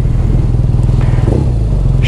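BMW R nineT motorcycle with a 1200cc boxer twin engine idling loud and close, a steady pulsing low thrum with a faint mechanical clatter and no voices.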